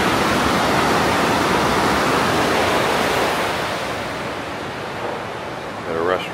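Rushing water of the Urubamba River beside a hotel near Aguas Calientes, a loud continuous broadband roar that eases slightly toward the end, with a brief voice near the close.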